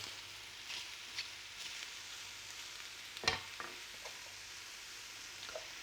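Faint, soft bubbling and sizzling of chanterelle mushrooms in a frying pan, with small pops and a brief sharper clatter partway through, no voices.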